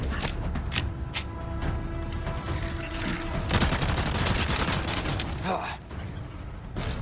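Pistol fire from the Killer 7 in Resident Evil 4 Remake, heard as repeated sharp shots with mechanical clatter over a steady, busy game soundscape, someone talking throughout.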